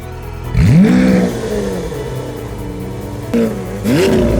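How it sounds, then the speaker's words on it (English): A 2018 Lamborghini Aventador S engine revs up sharply twice, each time rising into a loud close roar and then falling back to a rumbling idle. "So this is the 2018 Lamborghini Aventador S."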